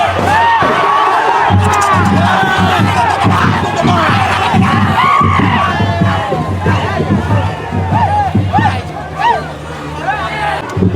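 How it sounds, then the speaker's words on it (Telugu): A dense crowd of young fans cheers, shouts and yells continuously in a street celebration of India's T20 cricket World Cup win in Eluru, loud and close with overlapping voices and chanting. "డాన్సులు, అరుపులు, అరుపులతో కుర్రోళ్ళు ఫుల్ ఎంజాయ్ చేస్తున్నారు"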